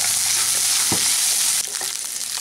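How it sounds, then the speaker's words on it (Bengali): Onion petals stir-fried in a pan for chilli paneer, giving a loud, close sizzle with a couple of quick scraping stirs partway through. "পেঁয়াজগুলোকে 1 মিনিট মতো একটু নেড়ে নেওয়ার পরে"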